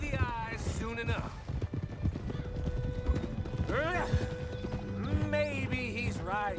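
Horse hooves clip-clop steadily in Red Dead Redemption 2, a game set on frontier trails, with occasional whinnies mixed under continuous character dialogue and background score.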